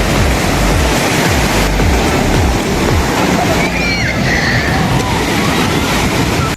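Loud, continuous roar of sea surf breaking on Cox's Bazar beach, a broad rushing wash that surges and recedes without pause close to the shore.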